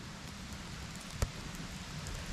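Steady rain falls in a forest during a mushroom hunt, a soft continuous patter across the canopy and ground with one brief nearby drip or tap standing out, no voices.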